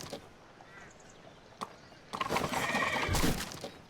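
Startled horses in Sherlock Holmes: The Devil's Daughter give a loud whinny after scattered thuds, with a swell of game sound effects beneath, close and prominent.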